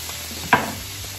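Pork and Thai chilies stirred in a hot pan, one brief scrape of the spatula over a soft steady sizzle, close and fairly quiet.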